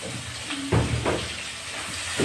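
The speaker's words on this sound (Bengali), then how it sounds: "পেঁয়াজগুলো ভেজে দেবো।" Onions frying in hot oil tempered with black cumin and four dried red chillies, a continuous hiss and sizzle with sharper bursts of crackle as the pan is stirred, close and fairly loud.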